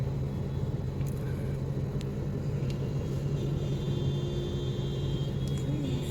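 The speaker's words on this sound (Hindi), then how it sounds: "हर बंदा पहले निकलने के उसकी वजह से सारी ट्रैफिक जो है वो डिस्टर्ब हो गई हुई है" Road traffic jammed at a signal, cars and engines idling and creeping in a steady, loud low rumble with faint higher hiss, no voices.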